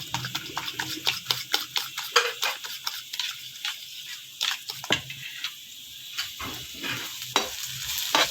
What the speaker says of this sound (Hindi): ये हमारा प्याज और हरी मिर्च बिल्कुल हमने इसको लाइट सा सौते करना है